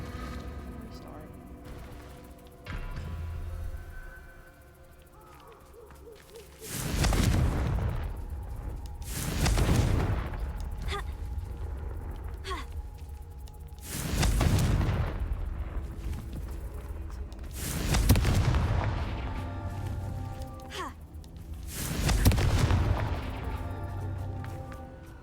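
Confringo blasting-spell explosions go off in the game Hogwarts Legacy, five loud booming bursts spaced every four to five seconds over a steady low game ambience, each with a long rumbling decay.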